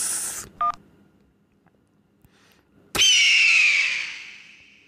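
Telephone keypad tones are heard: a burst of noise, a short electronic beep, then quiet, followed by a sharp click and a long, loud ringing tone that slowly fades. No one speaks.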